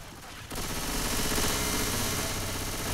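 Zombie-shooting gunfire in the Left 4 Dead 2 video game breaks out after a quiet half second, then rattles on as a dense, continuous barrage, loud and close, to the end.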